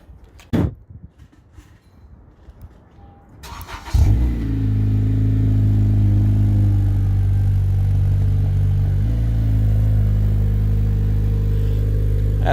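A Honda Civic Si fitted with an Invidia Q300 exhaust cranks briefly and fires up, settling into a loud, steady, deep idle drone that holds for several seconds after a few faint knocks beforehand.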